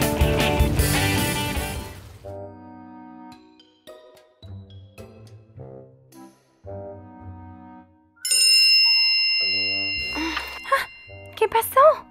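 A bright text message notification ding sounds during doll play with Barbie toys, clear and ringing after stretches of soft musical tones, with a voice speaking at the end.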